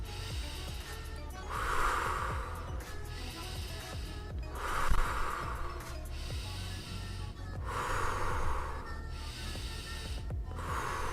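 Deep breaths during a karate breathing exercise, four long, strong breath cycles in a slow, steady rhythm, each a drawn-out hiss of air, close and fairly loud with no talking.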